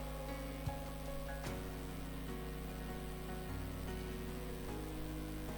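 Chopped onions fry in hot cooking oil in a kadai for Bengali hilsa fish pulao, giving a soft, continuous patter of crackling over a faint steady hum, quiet and without any voices.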